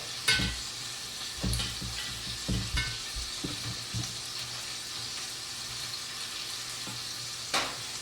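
Salt pork crackles and sizzles in a large cast iron pan, a constant frying hiss with occasional louder pops and stirring scrapes, close and alone without talk.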